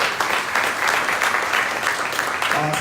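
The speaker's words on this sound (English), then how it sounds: "One more round of applause, please, for Ron." A meeting audience applauds Ron, a real estate presenter, with dense continuous clapping throughout, and a faint voice surfacing at the very end.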